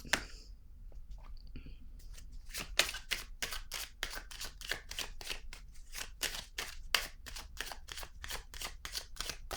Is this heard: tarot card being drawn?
yes